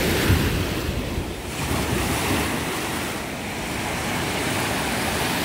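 Baltic Sea waves wash onto the beach at Jastrzębia Góra, a loud continuous surf roar mixed with strong wind buffeting the microphone, no voices.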